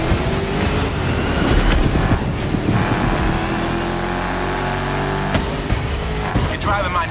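A throaty 1969 Ford Mustang Boss 429 engine in a racing video game roars continuously, revving and shifting pitch like a powerful car at speed, loud and close with no pauses.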